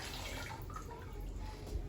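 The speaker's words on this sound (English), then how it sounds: "Plants don't love chlorinated water, so I'm going to pour this in." Filtered water pours into a container in a steady, soft splashing stream, close but quiet, with no talking.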